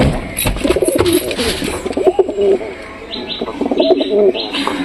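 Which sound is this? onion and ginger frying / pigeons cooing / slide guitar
pigeons cooing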